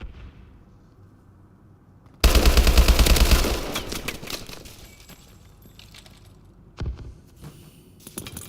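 A sentry gun in a video game fires a sudden loud, rapid burst of automatic shots that fades into scattered gunfire and distant battle noise, with a sharp blast near the end.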